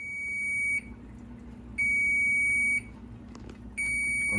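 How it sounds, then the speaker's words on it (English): A kitchen timer goes off during home jambalaya cooking, three long, steady high-pitched electronic beeps about a second apart, fairly close over faint room noise. "that's a 10-minute buzzer."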